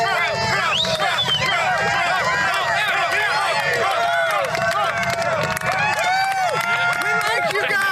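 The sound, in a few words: crowd chanting RSBN and Trump at rally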